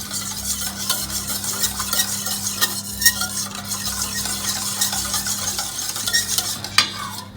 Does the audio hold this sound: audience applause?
no